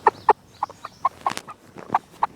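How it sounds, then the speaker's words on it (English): A pet chicken on a poultry farm clucks up close, short loud clucks in an uneven series of about eight or nine, alone and without talk. "I'm holding it right in front of my chicken"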